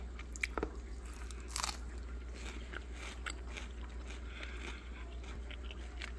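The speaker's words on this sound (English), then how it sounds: "I'm going to give it a taste test right away." Close, crisp crunching and chewing as homegrown Waltham 29 broccoli from a hydroponic countertop garden is taste-tested, with sharp bites early on, then steady mastication over a low hum.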